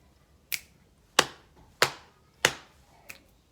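Body percussion rhythm of claps, stomps and finger clicks played as a simple pattern in a music lesson: five sharp, evenly spaced hits with rests between, close and clear over a quiet background.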